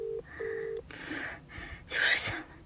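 A phone call rings out unanswered, with two short, steady ringback tones at the start, followed by breathy voices and close movement noise.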